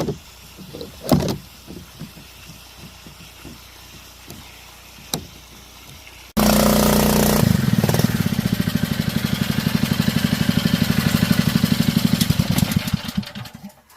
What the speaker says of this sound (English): It's time to go shut off that pump.